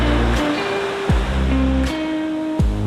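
Sea waves on a crowded beach, heard as a steady broadband wash of surf filling the whole clip, with sustained tonal hums and gliding tones layered over it and no talk.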